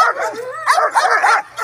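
Aggressive dog barking and yipping close by in a rapid, agitated burst of growly barks during a tense encounter with a pitbull.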